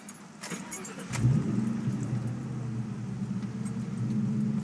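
A keyed ignition click, then a 2002 Mustang GT V8 with full catted MagnaFlow X-pipe exhaust cranks and fires into a loud, rumbling idle that holds steady close to the microphone.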